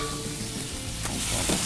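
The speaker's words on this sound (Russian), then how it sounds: "И отправляем сочный такой кусок мяса жариться на сливочном масле." A juicy piece of meat frying in butter, cooked alongside mushrooms, giving a loud, continuous close sizzle with a couple of brief crackles and stirring sounds.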